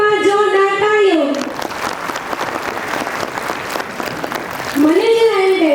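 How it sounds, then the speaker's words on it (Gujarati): Loud crowd applause at a school annual function breaks in between stretches of music, a dense burst of clapping from the audience lasting a few seconds before the music returns. "એકવાર જોરદાર તાળીઓ."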